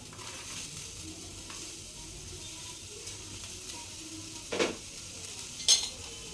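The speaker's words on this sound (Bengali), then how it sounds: "তো এবার আমি কড়াইটা গরম হয়ে গেছে, এটার মধ্যে আমি দিয়ে দেবো পেঁয়াজ।" Chopped onions sizzle softly in a hot kadai during oil-free cooking, a quiet steady hiss with a couple of brief clinks of a utensil against the pan near the end.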